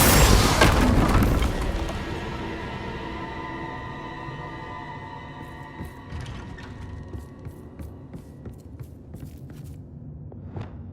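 A blasting fire spell in Hogwarts Legacy erupts as one loud boom that fades through a long rumbling tail, with lingering ringing tones and scattered small crackles afterward.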